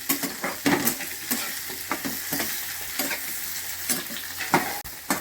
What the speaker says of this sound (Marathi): याला बी चांगलं खरपूस तळून घ्यायचं